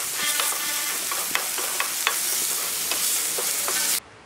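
Ginger garlic paste and onions sautéing on a low flame for egg drop curry, a steady close sizzle broken by a few sharp spoon scrapes and taps, then cutting off abruptly near the end.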